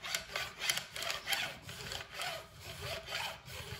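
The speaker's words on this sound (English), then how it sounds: "So I'm just using a blade and scraping along like that." A steel blade scraping along the edge of a Gibson SG bass fretboard to round it off, heard as steady, rhythmic rasping strokes close up, roughly seven passes in a row.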